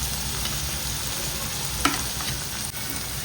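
Spices are stirred into a frying mixture for eggplant oro, a soft continuous sizzle with scraping at a close distance and a few brief louder clicks.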